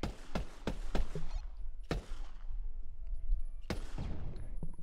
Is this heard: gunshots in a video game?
yes